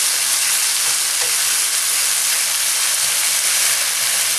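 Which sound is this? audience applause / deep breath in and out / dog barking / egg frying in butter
egg frying in butter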